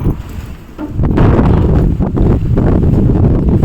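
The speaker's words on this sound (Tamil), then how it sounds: "எப்படி காற்று அடிக்குதுன்ட்டு நல்ல பயங்கர காற்று" Strong wind roars and buffets close against the microphone in heavy, continuous gusts, with no voices.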